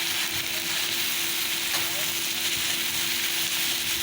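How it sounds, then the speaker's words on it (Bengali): Drumsticks (sajna) going into a frying pan with potatoes, salt and turmeric, giving a steady, close hiss of sizzling oil that continues evenly without pause, with a faint hum underneath. "সজনাগুলো এখন দিয়ে দিচ্ছি"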